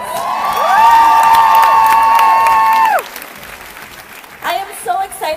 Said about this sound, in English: a round of applause, you guys